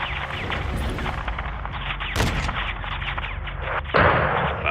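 Heavy weapon fire in Call of Duty: Modern Warfare II, a missile or 40 mm cannon, with dense crackling gunfire throughout, a sharp loud blast near the middle and another heavy boom toward the end.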